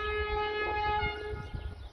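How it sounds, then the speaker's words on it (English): A freight train passing in Portugal, heard as a steady rumble with a sustained multi-tone horn blaring over it, close and loud. "10 freight trains in a row"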